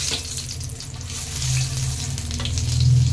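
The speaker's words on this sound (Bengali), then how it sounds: "মাছ ভাজা হয়ে গেছে, ওই তেলের মধ্যে দিয়ে দিলাম একটু কালো জিরা ফোড়ন" Black cumin seeds sizzling in the hot oil left over from frying fish, a steady close frying hiss that swells slightly louder toward the end, with no talk.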